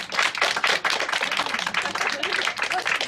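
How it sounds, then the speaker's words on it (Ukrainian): A crowd of relatives, diplomats and well-wishers applauds returning Ukrainian soldiers, with brisk, continuous clapping from many hands that sounds fairly close and carries on without pause. "просто небайдужі зустрічали наших військових оплесками"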